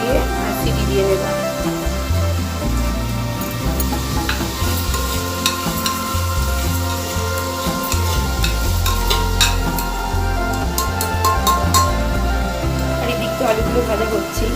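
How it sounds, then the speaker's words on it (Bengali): Potatoes frying in a pan in a home kitchen, with steady close sizzling and repeated stirring scrapes throughout, a dense continuous cooking sound with some faint background noise. "আলুগুলো ভাজা করছি"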